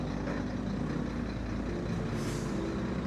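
A truck rumbles past close by on a busy Cavite road, heard from a Honda ADV 160 scooter. A sharp hiss of its air brakes bursts out near the end over the steady heavy engine drone.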